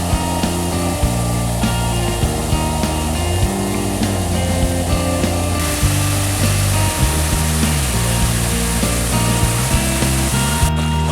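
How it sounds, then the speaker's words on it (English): Steady rushing water fills the clip, a continuous broadband roar from a small waterfall and creek, loud and close with no talking. "This little waterfall and creek were absolutely swim worthy."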